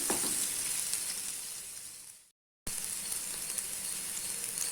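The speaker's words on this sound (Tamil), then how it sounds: "வெங்காயம் நல்லா வதங்கணும்." Onions sauté in a pan for a barnyard millet vegetable khichdi, giving a steady close sizzle with a faint hiss. It drops to silence for a moment partway through, then the frying picks up again at the same level.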